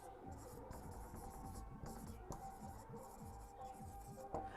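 Chalk or marker strokes on a board in a classroom as a sentence is written, a quick series of close scratchy taps and scrapes with short pauses, fairly faint.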